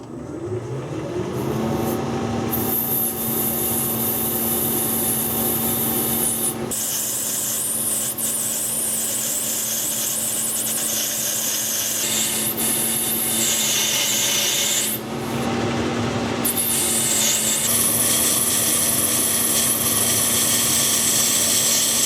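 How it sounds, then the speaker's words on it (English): Bronze bar turned down on a lathe, the end machined square first, with a steady metallic rasping cut running throughout, briefly interrupted twice as the tool pauses, close and moderately loud without talk. "First thing, machine the end of the bar square. Then we just turn them down to 1/2 inch."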